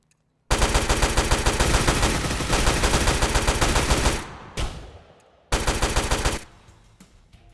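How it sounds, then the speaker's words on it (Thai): Loud, dense bursts of rapid automatic gunfire in the mobile shooter game Hazmob FPS, one long volley then a shorter one, with echoing decay between. "เสียงปืนก็ใช้ได้นะ"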